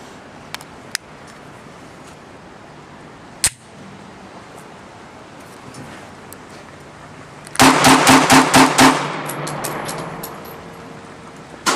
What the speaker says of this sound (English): for the rapid fire.